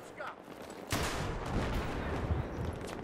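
Gunfire in the video game Battlefield 3 multiplayer, a sudden burst of rapid shots after a brief pause that keeps rattling on, fairly faint in the mix with a player talking.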